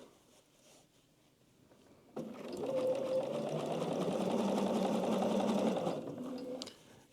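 A sewing machine runs a steady, continuous stitch along a 5/8 inch side seam in garment fabric for about four seconds, close and clear, then slows and stops with no talking.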